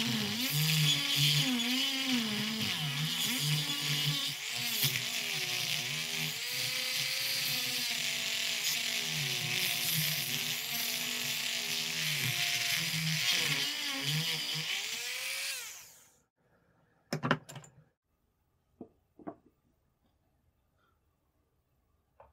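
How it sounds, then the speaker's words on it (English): A Dremel with a sanding drum grinds a Mauser 1871 carbine rifle nose cap, a steady high-pitched whine with wavering pitch as pressure changes, running continuously for about fifteen seconds before stopping, followed by a few faint clicks. "I'll try using a Dremel with a sanding drum."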